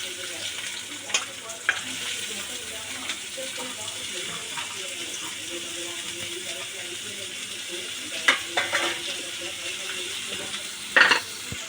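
Chopped onions with green chilli and ginger sizzle and fry steadily in hot peanut oil in a pan, a constant crackling hiss with occasional louder stir clatters.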